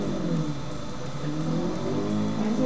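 Bugatti engine revs hard and steadily under acceleration, a loud continuous rising drone with layered engine harmonics and no voices.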